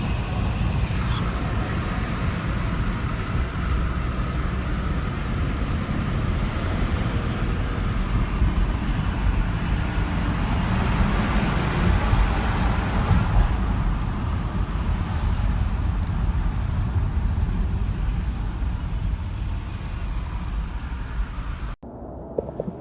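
A car drives through London traffic on the way into the city, with a steady, loud rumble of engine and road noise throughout that cuts off abruptly at the end, and no voices.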